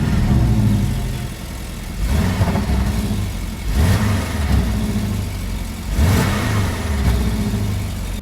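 A Porsche 718 Cayman GTS engine revs repeatedly from idle, about three or four sharp throttle bursts spaced a couple of seconds apart, close and loud, settling back to a low idle between them.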